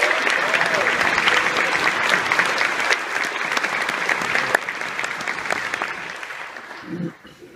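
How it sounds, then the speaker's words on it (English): An audience at the Academy of Magical Arts awards gives award presenters a sustained, loud round of applause that fades out toward the end, with a voice briefly heard as it dies down. "Please give them a combined round of applause."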